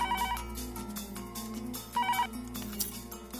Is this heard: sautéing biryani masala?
no